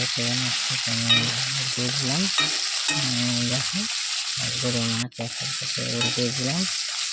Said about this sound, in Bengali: এখন দেখো লাল করে ভেজে নেবে